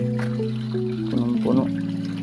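Water from a filter pours into a 100-gallon tank, a steady rushing flow heard under someone talking close by.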